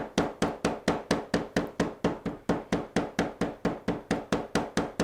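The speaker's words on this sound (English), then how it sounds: "And I'm just going to hammer." A hammer pounds flowers laid on a ream of paper to release their colour for natural fabric dyeing, sounding as a steady run of about twenty evenly spaced, sharp thuds with no talk.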